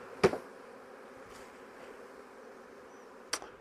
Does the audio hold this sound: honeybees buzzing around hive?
yes